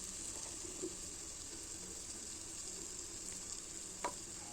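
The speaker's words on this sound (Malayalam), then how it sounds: "ഇതെല്ലാം ചേർത്തിട്ട് നമുക്ക് നന്നായിട്ടൊന്ന് വഴറ്റി കൊടുക്കാം." Chili powder, Kashmiri chili and spices sautéing in a pan for an anchovy curry, a faint steady sizzle with a couple of soft clinks, heard close with no voices.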